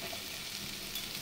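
Bitter gourd (karela) slices frying in a pan, a soft, even sizzle with faint crackles, heard briefly and fairly quietly with no talk.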